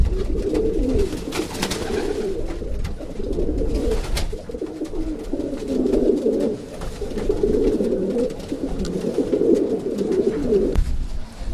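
Young fancy pigeons at a pigeon club festival in Volos coo steadily and continuously, a soft, low, rolling murmur of many birds close by with no talk over it.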